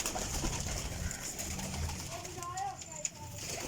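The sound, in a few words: high flyer pigeons cooing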